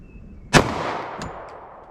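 A single sharp gunshot from a .45 ACP pistol firing Federal Syntech Defense ammunition cracks loud and close, then decays in a reverberant tail, with a faint tinny clink shortly after.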